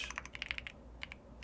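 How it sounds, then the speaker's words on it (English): Rapid, uneven keystrokes on a computer keyboard during a live web development coding session, a burst of close clicky taps, a short pause, then a few more quiet presses. "Are you not straining your wrists typing?"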